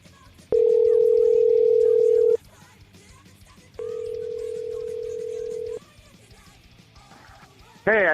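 Steady telephone tones sound over a call line, first one long loud tone, then a softer second one after a pause, with faint background noise and a brief voice or other sound at the end.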